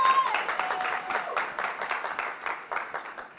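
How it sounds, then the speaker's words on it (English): A conference audience gives a round of applause for Melissa Bradley, founder of 1863 Ventures, with dense clapping that starts loud and gradually thins and fades toward the end. "Big round of applause."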